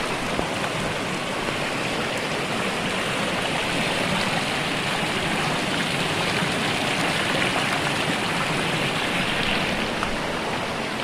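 A small waterfall inside a limestone cave with stalactites and stalagmites, clear mountain water pouring in a steady, dense rush that fills the whole clip without pause, close and continuous, with no talk over it.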